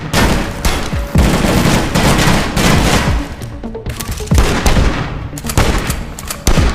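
Gunfire from the video game Armed Heist, including shotgun blasts, crackles in dense, loud volleys that keep going almost without pause. Sharp booming reports overlap throughout, and no voice is heard.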